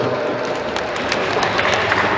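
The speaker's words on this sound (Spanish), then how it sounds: "Fuerte las palmas. Aplauso." Guests at a 50th birthday party in Paraguay clap together in a sustained, dense round of applause, fairly close, with faint voices mixed in.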